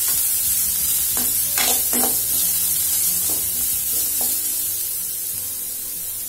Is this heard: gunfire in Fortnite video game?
no